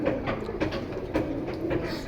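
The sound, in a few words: pigeons cooing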